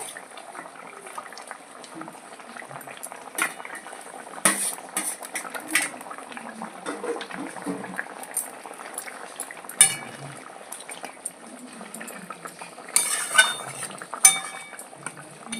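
Fish curry with potatoes simmers at a steady boil in a pan, a soft continuous bubbling with occasional louder clinks and scrapes of a utensil against the pot, close by and with no voices.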